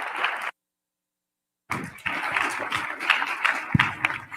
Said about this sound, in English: let's give another huge round of applause to Brandon, Saul, and Greg.